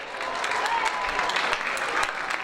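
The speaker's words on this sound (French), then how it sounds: "On peut les applaudir." Steady applause from a crowd at a women's under-18 rugby match, continuous clapping at an even level throughout with no voices.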